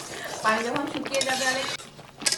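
Tomato pickle being stirred in a pot, a spoon scraping and clinking against the metal in short irregular strokes, close and fairly loud, with a faint sizzle underneath.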